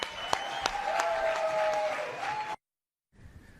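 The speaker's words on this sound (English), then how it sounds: "put a little extra love and a little extra excitement into your applause" Studio audience applauding to welcome a performer onto a stage, a dense steady burst of clapping that runs about two and a half seconds before cutting off abruptly.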